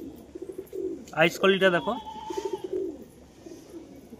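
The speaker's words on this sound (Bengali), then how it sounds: "এ হচ্ছে সবুজ নর কবুতর" Green male pigeon cooing close by, a few soft low coos around and under a man's speech.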